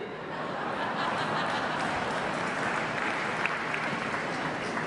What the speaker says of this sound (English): Notice how it's all the women laughing and clapping.